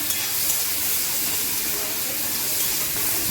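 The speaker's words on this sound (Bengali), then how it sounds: "লালচে লালচে করে ভাজা হবে দেখো বন্ধুরা আমি ভালোভাবে এটা ভেজে নিচ্ছি" Water spinach and onion fry in a pan at home with a steady, close hiss of steam and sizzling oil. The sound stays even and continuous the whole time, with no break.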